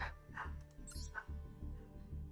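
Small dogs bark and yip in the background, muffled and fairly faint, with a low steady hum underneath.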